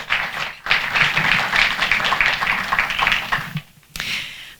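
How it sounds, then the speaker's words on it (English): Audience applause for a panel at a performing-arts discussion event: a full, busy round of clapping with a short break early on and another near the end. "Let's have a round of applause for our panel."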